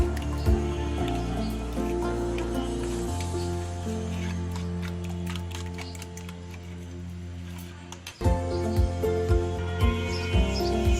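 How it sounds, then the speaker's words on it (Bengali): Wet squishing and stirring of a thick spice paste with water, steady and close, under a constant bed of background music. "পানি পরিমাণ মতো দিয়ে এটাকে মিক্স করে নিচ্ছি মশলাটাকে গুলিয়ে নিচ্ছি"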